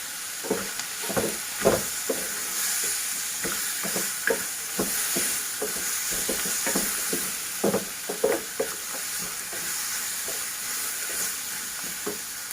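Cashews sizzle in a pan with chopped tomatoes, a steady hissing fry punctuated by repeated stirring scrapes, close and continuous with no talking.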